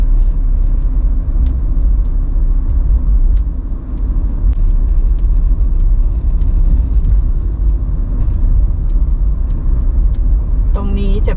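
A car drives up a mountain road past camps in rural Chonburi, Thailand, its engine and road rumble heard from inside as a steady, loud, continuous drone, with a person speaking over it.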